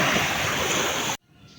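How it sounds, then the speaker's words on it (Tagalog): Waves breaking on a beach, a loud broad rushing wash close by that stops abruptly, leaving near silence. "Yung alon."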